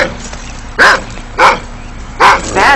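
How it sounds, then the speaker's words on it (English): A neighbor's dog barks four times in sharp, loud, closely spaced yelps over a quiet indoor background, with a low steady hum underneath. "I should have warned you about the neighbor's dog."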